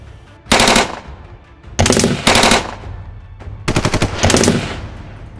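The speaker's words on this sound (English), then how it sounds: "I heard shooting." Gunfire during the 1919 March 1st Movement suppression in Korea: three loud, close bursts of rapid machine-gun fire separated by brief pauses, the last with distinct individual shots.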